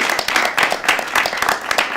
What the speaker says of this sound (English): Everybody, round Sure. of applause for Bill Straus.